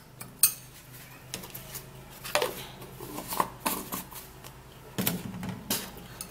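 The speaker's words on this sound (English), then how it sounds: "we'll stir up the ingredients really good" Rice powder mixture stirred in a bowl, with scattered scraping and clinking strikes of a utensil against the dish, several sharper knocks spaced irregularly over quiet background.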